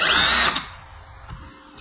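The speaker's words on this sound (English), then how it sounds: "So I'm going to go ahead and keep on drilling." A power drill bores into a cribbage board jig, a loud, close whine for about half a second before cutting off, leaving faint workshop noise and a soft knock.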